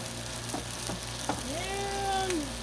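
A brunch sandwich with egg cooks on a Blackstone griddle, giving a steady close sizzle with light scraping taps. A faint rising tone runs through the middle.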